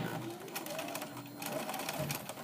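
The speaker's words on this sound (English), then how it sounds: "you're just going to sew right on that very inner edge around the whole thing" A sewing machine stitches along the inner edge of a fabric casing, a quick rhythmic chatter running steadily at close range and moderate volume.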